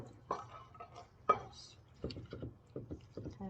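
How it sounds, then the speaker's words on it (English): A spoon stirs cream of celery soup in a pot, making soft scraping sounds and a few sharp clinks against the metal. The sounds come in short, irregular bursts, close and fairly quiet. "Kind of stir it a little bit, break up that clumps of soup."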